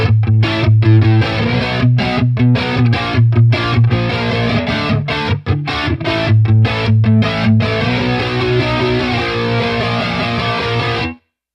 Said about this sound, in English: Let me just do the flanger with the depth all the way up like that. And maybe have a little bit of the distortion.